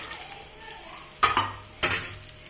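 Carrots and beans sautéing with onion in a pan, a soft steady sizzle broken by two sharp bursts of stirring and scraping against the pan.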